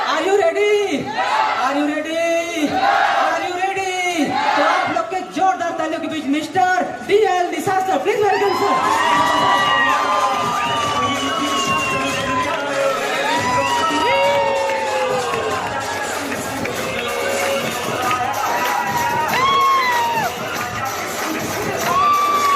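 A large, excited crowd cheers, shouts and whoops without a break at a lively motivational business event. The roar stays loud and dense the whole time, and amplified voices and music-like tones rise over it.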